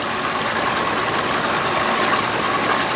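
A 1992 Johnson 60 hp outboard motor runs at a steady, even drone, loud and close, with a watery wash mixed into the hum and no talking.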